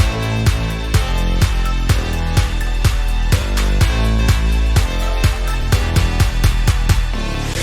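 A slap house break with claps on the four, a shaker and a punchy kick, steady looping electronic groove with regular sharp hits and a bright rhythmic top layer, loud and clean.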